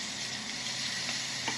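Fish frying in a pan, a steady close sizzle and crackle filling the whole stretch with no talk.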